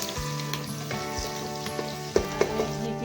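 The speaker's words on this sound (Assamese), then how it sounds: "পিঁয়াজখিনি ভালকৈ অলপ ভজা হ'ব লাগিব" Chopped onions fry in a pan with a loud, constant sizzle, broken by a couple of brief knocks near the end of a short stretch without talk.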